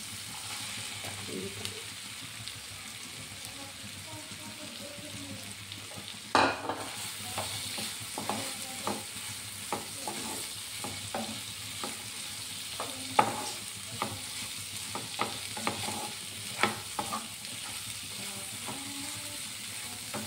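Prawns sizzling in hot oil in a home kitchen pan, a continuous fry hiss broken by repeated scraping stirs and clatters of a spoon against the vessel.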